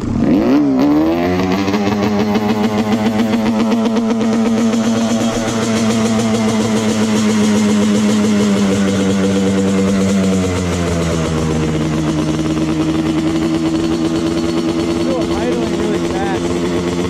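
A shifter kart fitted with a Banshee engine is started by hand, then runs at a fast, steady, buzzing idle close by, its pitch easing down slightly partway through.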